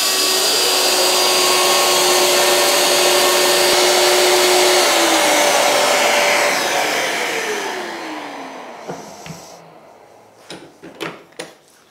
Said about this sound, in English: And so we're now ready to do a test cut.